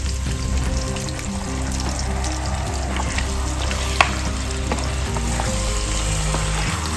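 Mutton pieces for an aloo mutton curry drop into hot oil and sizzle loudly and steadily, with a single sharp clack partway through and a low hum beneath.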